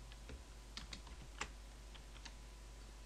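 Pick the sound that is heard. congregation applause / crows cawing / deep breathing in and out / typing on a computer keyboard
typing on a computer keyboard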